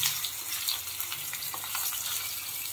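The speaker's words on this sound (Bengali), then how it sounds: "আস্তে আস্তে করে আলুটা বেশ লাল লাল করে ভেজে নিতে হবে" Potato pieces fry in hot oil for an aloo dum, giving a steady, moderately loud sizzle and crackle with no speech.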